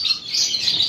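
Canary or lovebird at a bird market in Klaten, chirping in a quick, bright, high tweet that runs continuously through the short stretch, close and fairly loud.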